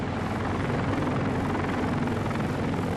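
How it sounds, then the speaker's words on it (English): Helicopters arriving at an embassy during the evacuation of Vietnam, a loud, continuous rotor thump and engine roar filling the whole stretch, close and steady. "By late afternoon, the chopper flow at the embassy really started."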